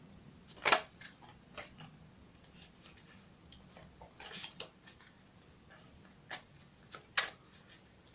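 Radiant Rider-Waite tarot cards are shuffled by hand up close, giving quiet, scattered papery taps and flicks with a few sharper snaps among soft rustling and long gaps.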